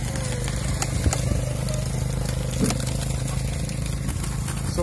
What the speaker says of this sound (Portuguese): do engenho movido a moto